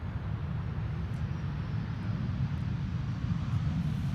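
A Transavia Boeing 737 arriving at Schiphol airport from Salzburg produces a steady, loud low engine roar and broad rushing noise that holds constant without any talk.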